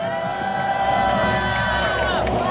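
A large crowd at a candlelight rally in Gwanghwamun Square, Seoul, applauds and cheers continuously, a dense roar of clapping and voices with a sustained tonal sound running beneath it.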